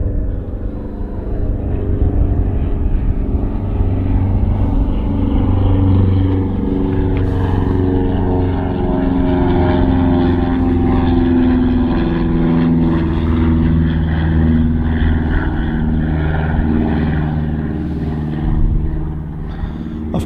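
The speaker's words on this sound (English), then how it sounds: "We got something that's just rotated, a little light aircraft" A Cessna light aircraft takes off at Hawarden Airport, its propeller engine a loud, steady droning roar that holds strong throughout with a slight swell, close to the listener and with no voices.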